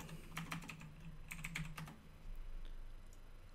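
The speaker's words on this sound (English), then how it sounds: "I typed in boot" A computer keyboard clicks through a brief burst of rapid keystrokes as a web search is entered, close and soft, followed by quiet room noise.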